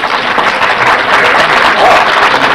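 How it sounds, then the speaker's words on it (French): Audience applause after a trumpet band's Sainte-Cécile performance, a dense, steady wash of clapping that stays loud for the whole stretch with no pause. "On l'applaudit bien fort."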